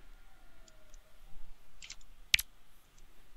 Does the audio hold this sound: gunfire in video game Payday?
no